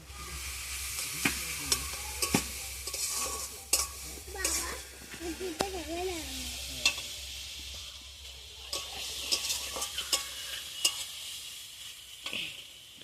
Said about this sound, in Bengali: পেঁয়াজের সঙ্গে একটু রসুনটা ভেজে নিই